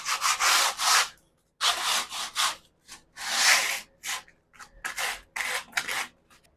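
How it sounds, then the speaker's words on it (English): Rhythmic rasping strokes of sanding on a wooden bench, in short bursts with brief pauses, close and steady. "because I'm sanding"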